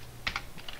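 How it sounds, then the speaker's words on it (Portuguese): Typing on a computer keyboard heard up close: a quick run of several soft key clicks in under a second, with a faint steady hum beneath and no talking. "Deixa eu digitar aqui"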